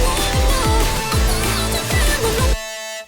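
A layered synth lead for a remix plays over punchy kick drums, a dense, bright, loud melodic line in a full mix for about two and a half seconds before cutting to a thin sustained tail.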